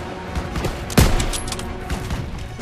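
Battle gunfire rattles through a Call of Duty: WW2 cutscene, with a loud burst near the middle amid dense, continuous shooting and no voices.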